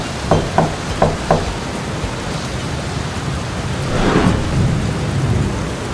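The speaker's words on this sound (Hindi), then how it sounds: "एक रात को बहुत ज्यादा बारिश हो रही थी" Heavy rain pours steadily at night while several quick thunder cracks strike early on, followed by a louder rolling rumble of thunder swelling over the downpour.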